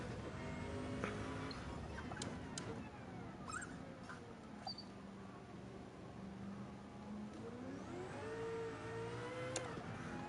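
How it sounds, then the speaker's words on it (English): In Gran Turismo 7, a Group C race car's engine drones steadily through a long run, then climbs in pitch as it revs hard near the end, moderately quiet with no talk over it. "This thing sounds insane."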